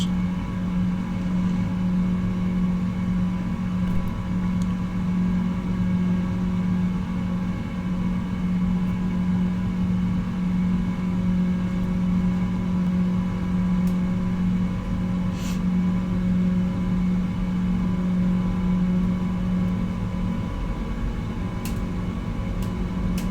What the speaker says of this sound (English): There we go, Rolls-Royce engines